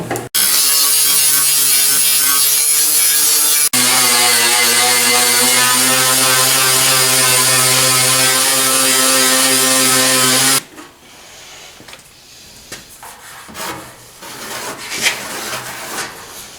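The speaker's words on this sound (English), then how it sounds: "A little bit of sanding." A loud, steady motorized grinding whine of metal being sanded runs for about ten seconds, then stops, leaving rougher intermittent scraping and rubbing sounds.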